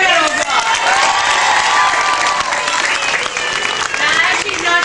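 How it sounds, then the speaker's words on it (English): Loud, sustained applause and cheering from a crowd at an amusement-park tiger show, with clapping and shouts filling the whole stretch. "Let's give it one more big round of applause."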